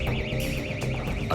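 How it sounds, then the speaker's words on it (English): Gas detection alarm from a control box in the Paris sewers, a continuous warbling electronic siren that rises and falls rapidly, loud and steady over a constant background rumble. "A control box sets off an alarm after detecting the presence of abnormal gas."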